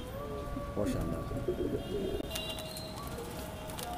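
Madrasi pigeons cooing at a rooftop loft, soft throaty coos close by over steady background hiss, with a few other faint bird chirps.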